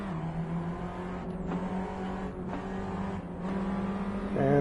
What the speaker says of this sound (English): And I'm just feathering the gas there to try and keep it together.